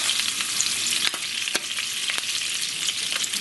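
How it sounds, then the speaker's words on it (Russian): Oyster mushroom cutlets fry in hot oil at close range, giving a steady dense sizzle with scattered sharp pops and spatters throughout. "Все, жарим, как обычные котлеты"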